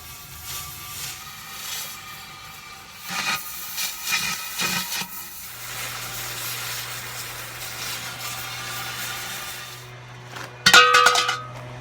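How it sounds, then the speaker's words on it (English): A cutting torch cutting a circle out of a steel propane tank gives a steady roaring hiss with a low hum, with scattered metallic clinks and a sharp clatter near the end. "that was me struggling to use a cutting torch"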